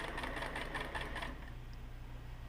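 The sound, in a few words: sewing machine double stitching stuff sack seam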